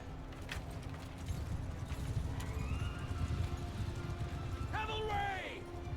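Horses clip-clop at a steady run across a Mount & Blade II: Bannerlord battlefield, one horse whinnying loudly near the end, with a constant low rumble of the fight beneath.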